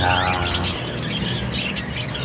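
Several birds squawk and chirp together, loud and close, with dense overlapping calls filling the whole stretch.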